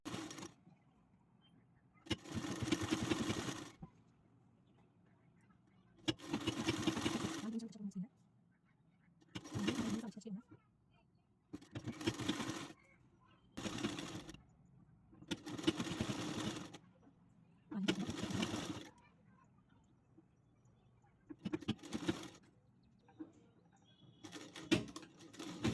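A sewing machine stitches the neck piece onto a blouse in repeated bursts of close, loud mechanical whirring, each run lasting one to two seconds with short pauses between.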